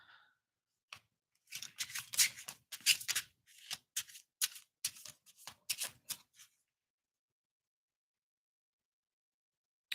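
Tarot cards are shuffled in a burst of quick riffling flutters and soft slaps lasting a few seconds, close and crisp, then stopping into silence with no voices.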